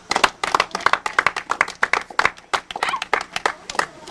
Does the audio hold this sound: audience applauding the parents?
yes